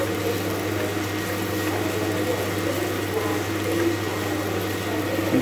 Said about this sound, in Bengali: এবার পেঁয়াজগুলোকে আমি আরও একটু করে ফ্রাই করে নিচ্ছি বেসিক্যালি।